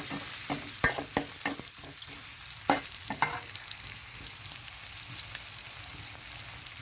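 Chopped garlic with green and dried chilies sizzles steadily in a hot pan, punctuated by a handful of sharp stirring clanks early on.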